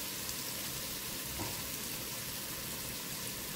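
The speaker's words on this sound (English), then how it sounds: "Stir that for just a minute." Shrimp drunken noodles cooking in a Ninja Speedi give off a steady, close sizzle and frying hiss with soft stirring scrapes, even and unbroken throughout.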